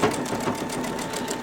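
A Babylock or Brother sewing machine runs at a slow, steady pace, stitching metallic thread with an open toe foot and loosened tension. The whirring and rapid needle ticking continue evenly throughout, close and alone.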